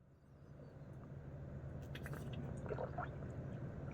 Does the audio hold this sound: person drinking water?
yes